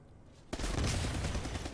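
Explosions and gunfire in the Armajet video game, a sudden loud burst after brief quiet that continues as dense, sustained firing.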